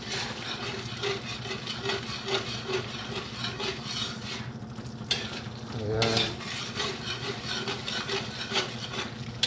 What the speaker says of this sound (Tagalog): So, gisa nyo muna yung inyong tomato sauce para hindi siya maasim.